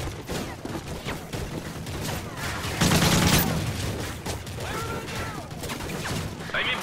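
Heavy machine-gun fire crackles in a Call of Duty: Modern Warfare 3 battle, dense overlapping bursts with a louder rolling volley midway, mixed with game combat noise and faint voices.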